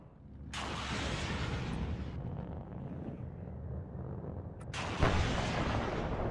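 Artillery fire in the real-time strategy game WARNO, two heavy booming blasts with long rumbling tails, the second louder and sharper, over a continuous low battlefield roar.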